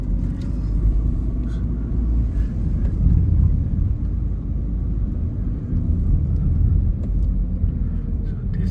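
Steady low engine rumble of a rental car rolling slowly through an airport car park on Langkawi Island, close and continuous with no talk over it.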